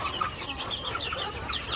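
Chickens on a farm, among them a flock with a chick that has a cold, cluck and call in a steady overlapping chorus of short, close, moderately loud notes with no talking.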